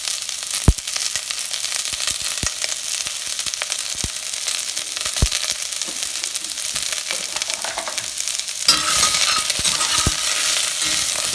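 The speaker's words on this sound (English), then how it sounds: "We're just going to cook those till they're cooked, the onions are soft" Chopped onions frying in a pan, destined for wild boar potstickers, give a steady close sizzle dotted with sharp pops and occasional utensil clinks, growing a bit louder near the end.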